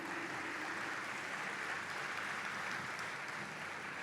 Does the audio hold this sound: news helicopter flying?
no